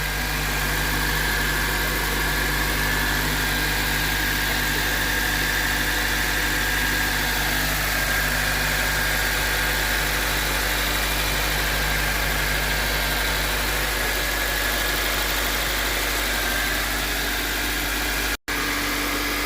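A 2004 Honda Civic 2.0 engine with about 240,000 km on it idles with a steady, even hum and vibration throughout, cut by a brief dropout near the end.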